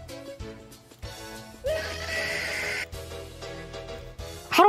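A loud screech sound effect plays back in bursts, harsh shrill squeals with tonal, whinny-like wavering that cut in and out over a low steady hum, ending in a sharp rising shriek.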